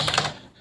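Quick clatter of computer keyboard typing, a short burst of several close, crisp key presses that fades into quiet room tone.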